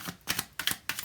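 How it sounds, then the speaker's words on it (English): A deck of tarot cards shuffled in three quick papery riffles, close and soft, each a short crisp flutter, with no talk. "I'm going to shuffle 5 times, and then I see what's on the bottom of the deck"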